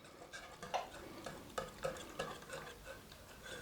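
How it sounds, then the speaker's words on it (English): A whisk stirs sauce ingredients, including salt and dried minced onions, in a bowl, making a steady run of quiet, rhythmic clicking and scraping taps, close and faint, with no voices. "Now you just want to whisk it all together."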